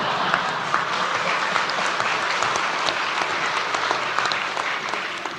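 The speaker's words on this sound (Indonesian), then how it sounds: "Tolong kalau tepuk tangan jangan ragu-ragu ya." Steady applause from a large audience at a court hearing, dense clapping held at an even level throughout with no voices standing out.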